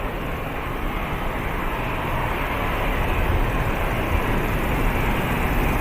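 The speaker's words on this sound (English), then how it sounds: "As this Ryanair is about to rotate." Ryanair jet airliner rotating on takeoff at Manchester Airport, a steady, loud broadband engine roar that swells slightly over a few seconds, heard alone without talk.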